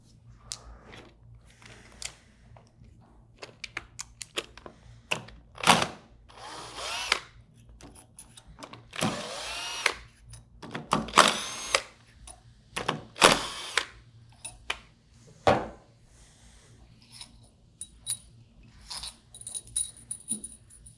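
Power drill backing out the four seal housing bolts on a Waukesha 200 Series pump, several loud whirring bursts of varying length separated by quiet gaps and small metallic clinks.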